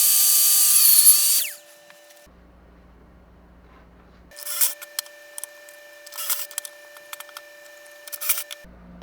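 A power drill bores holes into wooden boards for a pooja mandir, with a loud whirring burst at the start, a quiet gap, then several shorter drilling bursts with a faint steady hum underneath.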